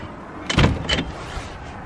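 A cat shelter door is pushed open and stops against snow, a short muffled scrape and thud in two quick bursts, close and fairly loud.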